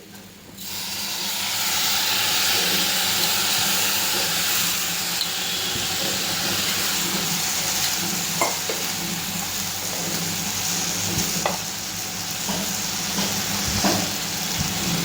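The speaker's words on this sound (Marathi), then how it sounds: "छान परतून घ्यायच्या आहे भाज्या धुतलेली मुगाची डाळ आणि तांदूळ" Vegetables sautéing with washed moong dal, rice, onion, garlic and red chili powder for a quick soybean pulao, giving a steady, loud hiss and sizzle throughout with a few faint clinks of stirring.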